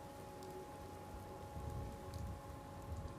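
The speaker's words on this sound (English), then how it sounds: "Hope this rain lets up soon." Steady, fairly faint rainfall patters on surfaces in Fallout 4, a continuous wash of drops with a hint of distant rumble and no voices.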